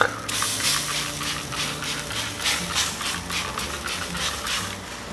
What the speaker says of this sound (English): I forgot I did want to spray these